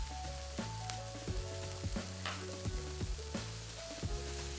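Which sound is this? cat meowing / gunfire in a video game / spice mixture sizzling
spice mixture sizzling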